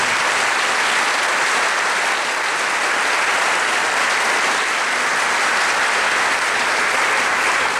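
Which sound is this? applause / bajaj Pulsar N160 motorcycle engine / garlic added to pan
applause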